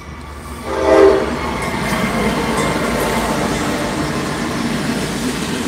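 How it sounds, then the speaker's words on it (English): A Norfolk Southern coal train rolls past at Portage, Pennsylvania, with a short horn blast near the start and then a steady loud rumble of wheels and cars. "Possibly have a coal train coming."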